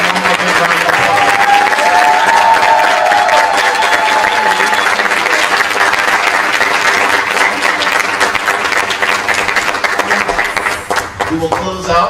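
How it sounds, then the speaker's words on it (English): Enthusiastic applause and cheering for education scholars at an end-of-year university celebration, loud and sustained across the whole stretch, with voices and some laughter mixed into the clapping crowd before it thins out near the end. "Give them one more big round of applause."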